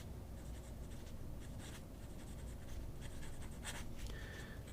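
Nib of a Jinhao 100 fountain pen fitted with a Bach nib, writing in burgundy ink: faint, close scratching strokes in short bursts with brief pauses, quiet and continuous over several seconds, no voices.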